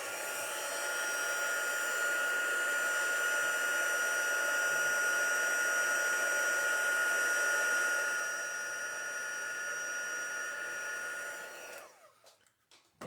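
Heat tool blowing to emboss a watercolor paper tag: a loud, steady fan whir with a constant high whine runs for about eleven seconds, dips slightly partway, then cuts off abruptly near the end.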